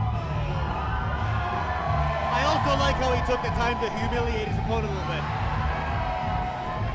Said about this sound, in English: Listen to the ovation from the crowd for Slam Campbell